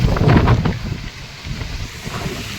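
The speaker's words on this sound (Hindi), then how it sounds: "बहुत तेज हवाएं चल रही है" Strong storm wind gusting outdoors during a dust storm with light rain, a loud rushing roar that peaks early and then settles into a steady lower blowing, with no talking.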